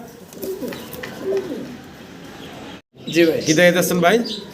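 Large Rajshahi Giribaz pigeons in a coop, soft cooing early on, then a sudden louder burst of wing-flapping and scuffling as birds squabble, with someone talking throughout.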